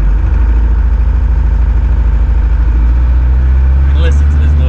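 A cold 1979 Range Rover Classic engine idles as it warms up, giving a loud, steady, close low drone with a faint voice near the end.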